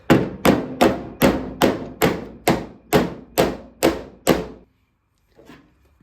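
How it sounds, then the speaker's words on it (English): Ten evenly spaced metallic hammer blows on a car door skin, struck with a door skin hammer against a dolly on a 1987 Camaro Z28, loud and close, ringing briefly each time, then silence with one faint tap. "I'm gonna use the dolly with the door skin hammer."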